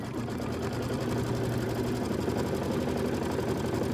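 Steady, fast mechanical whirring of a sewing machine stitching fabric down, running continuously at close range with an even rhythm and no talk over it.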